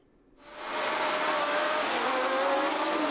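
1970 Formula 1 racing cars roar off the line at the Clermont-Ferrand start, a sudden swelling blare of many engines merging into one loud, sustained wall of sound.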